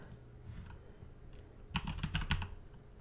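Typing on a computer keyboard while setting up a computer, with a few light scattered key taps followed by a quick close burst of keystrokes, quiet and alone.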